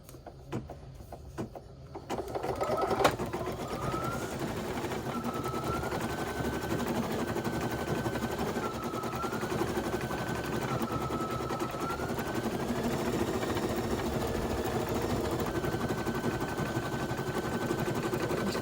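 A Babylock embroidery machine stitching with Threadnanny embroidery thread, a steady, close, fast mechanical stitching drone with a whirring tone that rises and falls in pitch, running continuously without talk after a brief quieter start.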